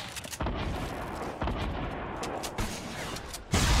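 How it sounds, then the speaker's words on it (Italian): Sniper rifle fire in the video game Fortnite comes as a few heavy booming blasts spaced about a second or two apart, set in a constant roar of dense battle noise and fairly loud throughout. "Ho sparato il cecchino da lì lontano"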